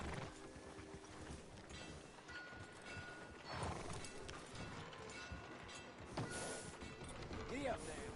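Horse hooves trot in the Red Dead Redemption 2 video game, a steady clip-clop under faint game ambience and music, with a brief voice heard partway through.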